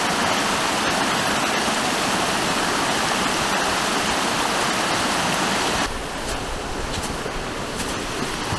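A river rushing steadily during a backcountry snow hike on Vancouver Island, a loud continuous broadband roar close by that drops slightly in level partway through, with no talking.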